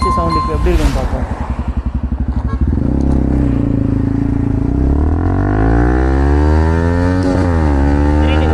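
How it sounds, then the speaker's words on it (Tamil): A Yamaha R15 motorcycle with a modified exhaust and carbon fibre work runs loud and close, first with rapid popping and crackling pulses, then with a smooth climbing rev that rises and falls. "வண்டி டப்படப்படப்படம் வெடிக்குது"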